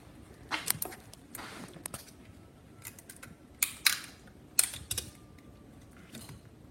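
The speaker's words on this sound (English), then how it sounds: "Screw back in." Small metallic clicks and scraping ticks of a screw being driven back into a bracket holding a protective shield, a few sharp close bursts spaced apart over a quiet background.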